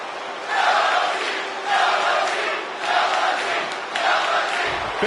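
Wrestling arena crowd in the WWE 2K20 video game, a loud roaring cheer that swells and recedes in repeated waves, each lasting about a second, filling the whole clip with no talk over it.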